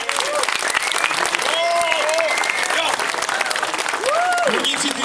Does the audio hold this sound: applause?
yes